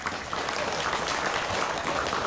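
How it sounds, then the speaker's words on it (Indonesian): Steady applause from an audience at an evening youth forum reflection session, dense and even across the whole stretch with no voices breaking through. "sekali lagi tepuk tangan yang meriah untuk teman-teman semua"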